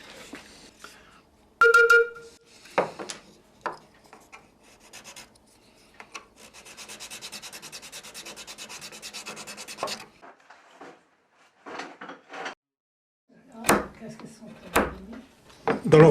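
A wood chisel working the edge of a barrel organ pipe made of light wood, close scraping and rasping strokes in irregular bursts with quiet gaps, a few sharp taps, and a voice speaking intermittently.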